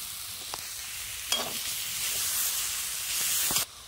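Chopped tomato hits a hot frying pan of spiced oil with salt and turmeric, bursting into loud, steady sizzling and hissing, with a few sharp stirring knocks and a brief clatter near the end.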